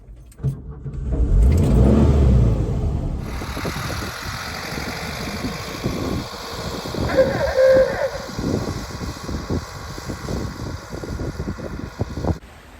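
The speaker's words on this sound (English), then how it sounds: "let's fire up the bus" A bus engine turns over and settles into a rumbling idle, then carries on running with fan whir and mechanical rattles close by, while a faint dog bark shows up briefly.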